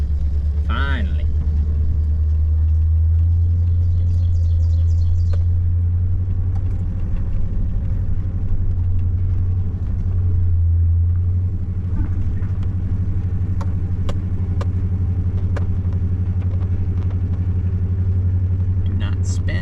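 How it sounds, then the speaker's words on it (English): A vehicle drives over rough ground toward a Northern Minnesota job site, its engine a loud, steady low rumble throughout, with occasional knocks and rattles. "And we are rolling to the job site."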